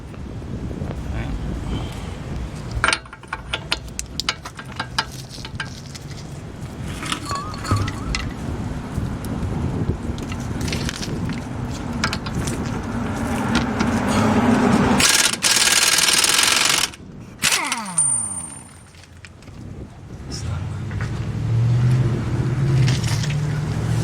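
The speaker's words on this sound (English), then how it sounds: "Right now we're going to break that nut free with this 1 1/4 socket." A 1 1/4 socket on a breaker bar works a large nut loose on a 1997 Honda Civic during an engine rebuild, with clanks and scraping metal, grunting effort and a sharp burst of noise near the middle.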